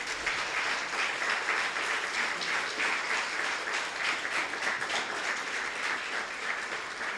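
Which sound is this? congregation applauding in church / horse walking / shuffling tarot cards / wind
congregation applauding in church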